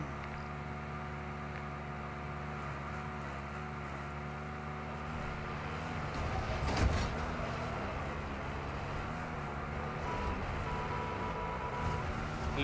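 Armored vehicle driving in Warzone 2, a steady low engine drone with rolling mechanical hum that swells briefly near the middle and continues at an even, fairly loud level throughout.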